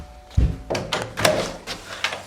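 A front entrance door makes a single loud, low thud near the start, followed by a few softer knocks and bumps of movement close by.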